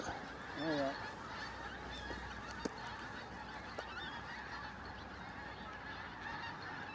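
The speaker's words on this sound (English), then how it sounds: "So rooks up here now. They come out every night for a kind of a flyby." Rooks flying over at dusk, a scattering of harsh distant calls heard over steady outdoor background noise, with a brief cluster of cawing near the start and fainter calls afterward.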